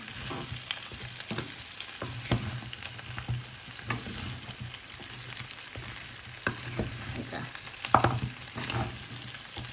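Crispy fried catfish is stir-fried with prik khing chili paste and kaffir lime leaves in a hot pan, with a steady close sizzle and repeated scraping clatters of a utensil stirring, and no talking.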